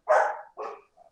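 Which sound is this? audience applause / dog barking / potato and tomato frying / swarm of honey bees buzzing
dog barking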